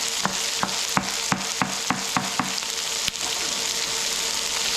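Mushrooms sizzle steadily in a pan on a home stove, and a spoon stirs them with a string of regular light scrapes and taps roughly every half second. No one speaks.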